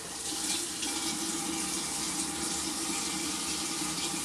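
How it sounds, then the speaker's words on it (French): Water running from a kitchen tap while cooking pasta, a steady close hiss and gurgle of a thin stream pouring without pause. "on va rajouter un petit peu d'eau"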